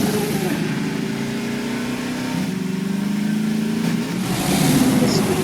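A Jeep engine in the Garry's Mod video game drones steadily at mid pitch, its tone slowly rising and swelling into a louder rev near the end, close and continuous.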